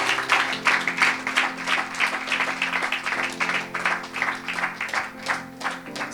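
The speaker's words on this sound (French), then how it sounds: "Est-ce qu'on peut acclamer pour Jésus?" A church congregation claps steadily in praise of Jesus, a sustained round of applause with a brisk, even rhythm lasting several seconds, with no talk over it.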